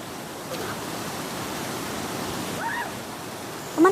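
Rushing water of the Kanduaraya river, a steady broadband roar throughout with a brief splash-like burst near the end and faint chirpy sounds.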